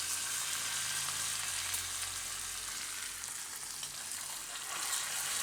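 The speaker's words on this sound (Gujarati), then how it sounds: "આ વઘાર આપણે આની ઉપર નાખી દઈશું." Chili and curry leaves sizzle in hot oil for a tempering, a steady, loud frying hiss heard on its own with no talk.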